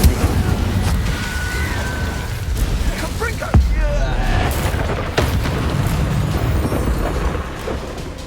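A fire spell cast in the video game Hogwarts Legacy during a final boss fight, with rumbling booms and fiery bursts over a steady roar, a sharp impact midway, and voices speaking in the background.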